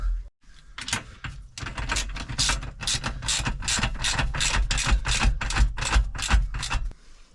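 A ratchet wrench clicks in fast, steady bursts while tightening the bolts of a swivel seat on a Ford Transit Custom van, loud and close with brief pauses between strokes.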